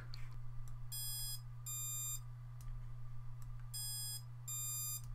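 Electronics on a Furibee Nebula 230 FPV drone give two pairs of short high-pitched beep bursts over a steady low hum, fairly loud and close, with brief pauses between groups.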